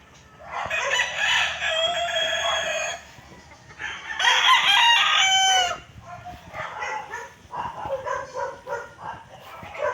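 Roosters at a poultry farm with gold-feathered and white birds, crowing loudly and close in several long overlapping calls, mixed with clucking and a barking dog in between.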